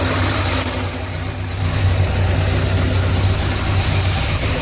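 A Corvette with a newly installed cam idles with its exhaust valves closed, giving a steady, loud, deep rumble that holds evenly throughout with no speech.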